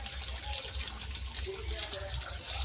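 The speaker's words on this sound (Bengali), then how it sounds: "খুঁজে নিয়ে এখন এগুলা ধোয়া লাগে ভালো ভালো করে, এক একটা করে।" Palm fruit seeds, still coated in soil, being washed one by one by hand in water outdoors; a steady, close rush of running water continues throughout without a break.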